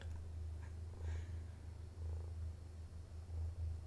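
A house cat purrs steadily up close, a low rumbling pulse that rises and falls with each breath, soft and continuous with no talking.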